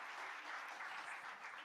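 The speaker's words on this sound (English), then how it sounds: "So a round of applause for Dr." Audience applause at an education conference in a hotel hall, a soft, steady wash of many hands clapping from a distance, faint and even throughout the short stretch.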